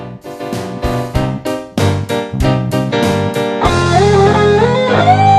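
A doubled guitar part from a song plays with the band, starting with short punchy chord stabs and then swelling into a sustained melodic line with a full backing.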